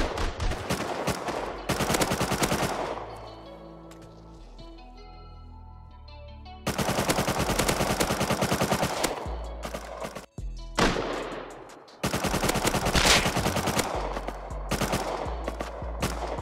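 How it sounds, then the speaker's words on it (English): Bursts of automatic gunfire from the video game Rust hammer at walls in long, loud volleys, broken by short pauses and a quieter stretch with some faint background tones. "I need to keep trying to shoot the walls though."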